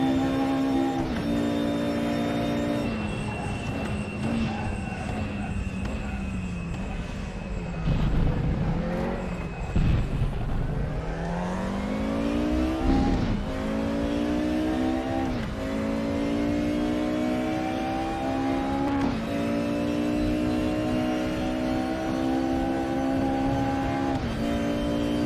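A race car engine screams through a lap in a sim racing game, revving high and rising through the gears with drops at each shift, heard steadily for about twenty-five seconds with no talk.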